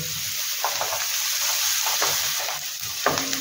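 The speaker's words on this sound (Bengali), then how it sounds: "একটু পেঁয়াজটা ভেজে নিয়েছি।" Chopped onion frying in oil in a pan, a close bright sizzle under a few quick spatula scrapes and taps, steady and unbroken for a few seconds.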